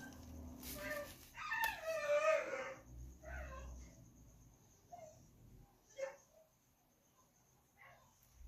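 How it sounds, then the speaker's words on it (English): Dogs outside whimper, yip and bark in short bursts, faint and somewhat distant, mixed with a person's voice and light household noise. "So my dogs are making noise outside"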